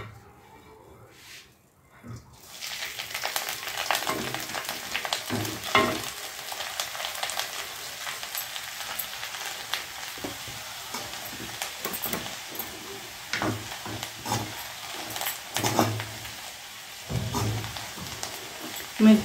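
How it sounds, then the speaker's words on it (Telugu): Chopped coriander leaves frying in a little oil in a pan make a steady close sizzle, with stirring scrapes and occasional pops throughout. "ఇప్పుడు అదే బాణీలో కొద్దిగా ఆయిల్ వేసుకుని ముందుగా మనం కట్ చేసి పెట్టుకున్న కొత్తిమీరని వేసి వేయించుకోవాలి"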